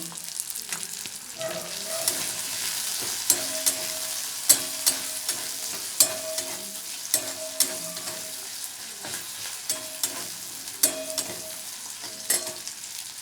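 Green peas frying with a cooked-down spice mix in a pan, giving a soft continuous sizzle broken by a series of regular spatula scrapes and taps against the pan.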